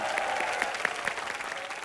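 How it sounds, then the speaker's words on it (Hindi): A television studio audience breaks into strong, steady applause to welcome guests onto an entertainment show, a continuous wash of clapping with a few sharper claps standing out. "जोरदार तालियां हो जाएं for Sajid sir and for Swara"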